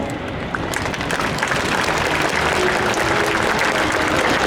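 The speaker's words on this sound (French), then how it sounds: "Vous pouvez les applaudir." Crowd applause at the Paris Air Show 2023, a large outdoor audience clapping steadily and densely, fairly loud and continuous after a brief quieter start.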